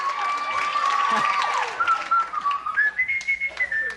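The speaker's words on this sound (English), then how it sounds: "Is that what you were trying to whistle?" A game show contestant whistles a wavering tune, the pitch sliding and climbing in short phrases, with murmuring studio audience noise and light clapping behind it.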